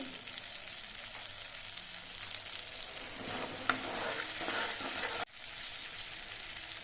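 Pointed gourd being stirred and fried in a pan, a steady soft sizzle with faint scraping and stirring noises, briefly louder midway, no talking.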